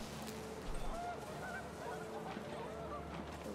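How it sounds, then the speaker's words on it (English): Panicked geese honking in the video game What Remains of Edith Finch, a brief burst of goose calls heard over a windy ambient background at moderate distance, with no talk. "The wind picked up, and panicked geese appeared and quickly went."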